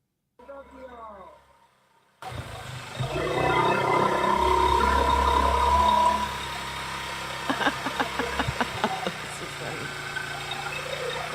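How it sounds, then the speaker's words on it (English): A motorcycle engine starts up and runs loud and close with a steady rumbling roar, and voices talk over it. "these guys have a motorcycle"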